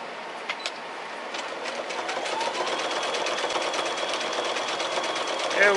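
Janome sewing machine stitching scrappy quilt strips, its steady rapid needle chatter running continuously and close up, growing slightly louder toward the end.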